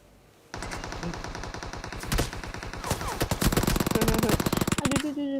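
Rapid automatic gunfire in PUBG Mobile rattles in quick bursts, growing louder and denser before breaking off, with faint voices talking underneath.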